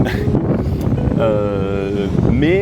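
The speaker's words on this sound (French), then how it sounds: "Désolé pour le vent, je suis au bord de l'eau." Wind blows hard against the microphone by the water's edge, a steady rumbling buffet under someone speaking French.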